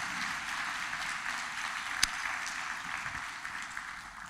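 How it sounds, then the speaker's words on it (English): Steady, dense applause fills a conference hall at a Missouri community food systems event, a moderate wash of many hands clapping at an even level for several seconds with no speech over it. "So let's give the Missouri 100 a big round of applause."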